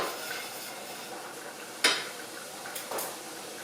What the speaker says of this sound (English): it's not that difficult to just have just a moment to sear and cook this onion